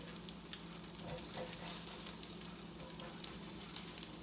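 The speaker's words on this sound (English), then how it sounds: "you want the oil hot enough to sizzle" Steady crackling sizzle of salmon croquettes frying in hot oil in a cast iron skillet, continuous and close, with faint pops scattered throughout and no voices.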